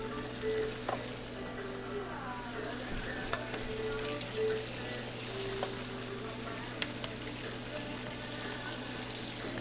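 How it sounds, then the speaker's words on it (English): Ham, egg and cheese sandwiches fry on a griddle at a Branford beach donut shop, giving a soft, steady sizzle that runs quietly throughout, with faint kitchen clatter. "Ham, egg, and cheese sandwiches is on the griddle"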